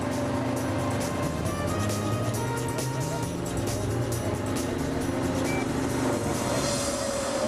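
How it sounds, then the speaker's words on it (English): An ATV engine fitted with a metal detector drones steadily and loudly throughout, with a voice talking faintly underneath the rumble. "Marvin has rigged a specially designed metal detector to the back of his ATV"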